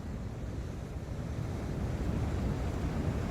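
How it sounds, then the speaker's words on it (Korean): Ocean surf at a seaside spot, a steady broad roar of waves on the shore mixed with heavy wind buffeting the microphone, loud and continuous with no voices. "참 바다 파도 소리 들어가면 들으면서"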